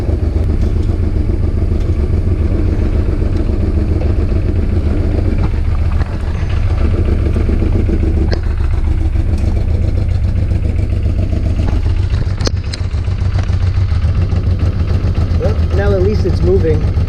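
A 1995 Honda Africa Twin motorcycle engine runs steadily after being revived from a locked garage, a loud close idle with dense mechanical clatter throughout, a few sharp pops near the middle, and voices talking over it.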